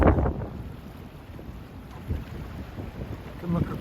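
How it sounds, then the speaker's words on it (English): Strong wind buffets a camera microphone out on a jetty in Venice, Florida, giving a steady, rumbling roar with louder gusts at the start and near the end; no one speaks. "It's very windy, so I hope the wind noise doesn't come through on this camera."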